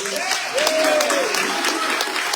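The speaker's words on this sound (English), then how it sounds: "Can you please join me in giving her a round of applause" Dense audience applause filling a meeting room for a round of applause, steady and fairly loud, with a voice faintly audible over the clapping.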